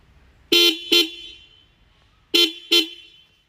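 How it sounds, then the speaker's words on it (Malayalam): A Honda CB350 motorcycle's dual horn honks loudly and close by in two quick double bursts separated by a short pause, four sharp toots in all with nothing else around them. "ഞാൻ ഹോണിൻ്റെ സൗണ്ട് ഒന്ന് കേൾപ്പിച്ചു തരാം"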